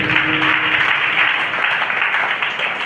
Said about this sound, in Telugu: చప్పట్లు కొడుతూ గట్టిగా.